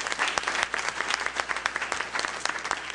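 Audience applause at a ministry gathering, a dense, steady patter of many hands clapping throughout, fairly close and even in loudness.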